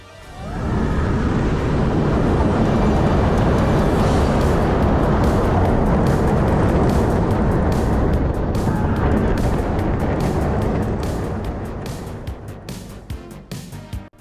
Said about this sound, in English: let's at least test this roller coaster out